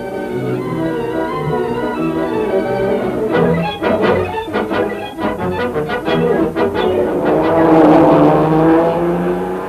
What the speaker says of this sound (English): the 7 crosses the line at amazing speed